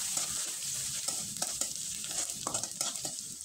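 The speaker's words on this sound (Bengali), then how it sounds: "এবার খুব ভালোভাবে একটু নেড়ে চেড়ে নিব" Chopped onion, garlic, ginger and green chili stir-fry in hot oil, giving a constant bright sizzle with quick scraping spatula strokes, close and without speech.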